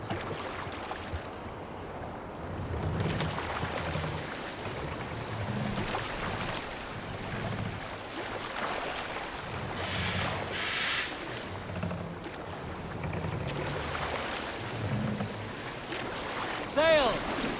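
A Viking longship sails over waves in Assassin's Creed Valhalla, with continuous water wash and wind and rhythmic surges of sea noise under faint voices.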